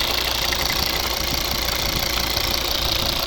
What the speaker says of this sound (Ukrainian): Двигун працює ідеально.